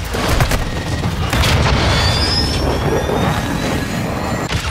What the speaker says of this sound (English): That is a huge cruise missile.